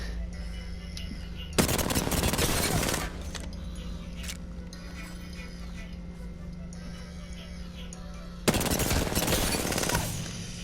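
Rapid bursts of automatic gunfire in Apex Legends as targets and dummies are shot at the practice range, two loud dense volleys separated by a quieter stretch of steady game ambience.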